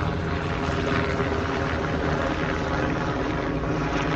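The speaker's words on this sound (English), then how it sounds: "A black hawk's going over your head." An Army Black Hawk helicopter passes overhead near a Florida beach, its loud, steady rotor and engine roar filling the whole stretch without pause.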